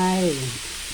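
Pork stir-frying with peas and Chinese cabbage in a hot pan gives a steady close sizzle, with a voice heard briefly at the start.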